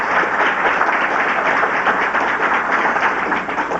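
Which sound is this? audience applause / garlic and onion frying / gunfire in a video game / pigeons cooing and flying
audience applause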